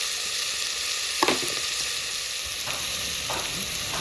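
Curry leaves and small slit green chillies frying in hot oil for a Kerala mutton kurma, a steady close sizzle with a couple of brief stirring clatters, no talk.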